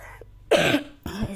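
A person with a bad cold coughs twice, a sharp harsh burst followed by a shorter throaty cough, close and loud with brief quiet around them.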